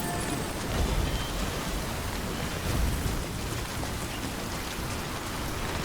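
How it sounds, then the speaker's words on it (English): Steady rain falls in the video game Death Stranding, a dense even hiss of drops on surfaces with no break, broad and constant, with no voices over it. "other than the rain constantly damaging my packages"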